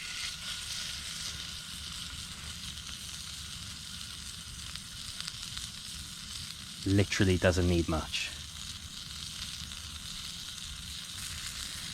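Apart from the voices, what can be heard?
steak sizzling in cast iron pan over open fire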